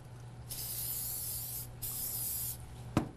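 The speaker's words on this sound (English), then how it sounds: "I think I'm actually going to just spray the adhesive on this one." Adhesive sprayed from an aerosol can onto a hollowed egg in a craft setup, two steady hissing bursts of about a second each with a short pause between, followed by a sharp click.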